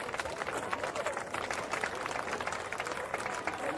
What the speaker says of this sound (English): the crowd's clapping now